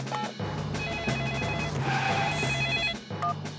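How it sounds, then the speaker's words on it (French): A telephone rings in a Peppa Pig cartoon, with a steady electronic ringing tone running close and clear for a few seconds over a soft background. "Je vais appeler Monsieur Boule"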